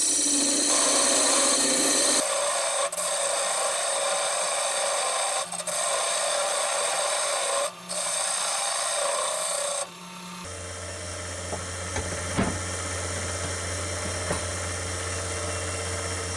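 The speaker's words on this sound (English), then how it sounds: "now start cutting the tenon" Woodturning tool cutting a tenon on a wooden goblet blank on the lathe, a loud continuous rasping scrape broken by brief pauses, then settling into a steadier, quieter hum with light scratches near the end.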